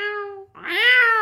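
A person imitates a cat with a drawn-out two-part meow, the second part rising and louder, heard close and alone.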